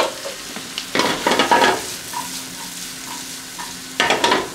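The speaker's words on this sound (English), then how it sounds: "We'll let that saute." Asparagus omelet ingredients saute in a hot pan, with an ongoing sizzle broken by scraping and stirring bursts from a utensil, some quiet clinks in between, and no voices.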